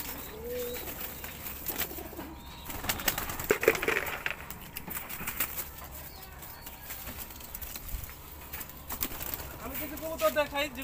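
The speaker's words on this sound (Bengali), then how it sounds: "কিছু কবুতর দেখাই" Pigeons for sale coo and rustle nearby with occasional wing flaps, and someone talks intermittently over the birds.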